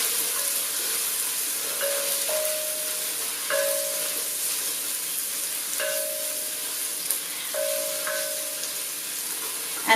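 Red onions and tofu fry in a pot with a steady, loud sizzle and hiss, while a utensil stirs and scrapes at intervals.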